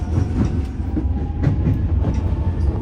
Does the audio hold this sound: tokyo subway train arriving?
yes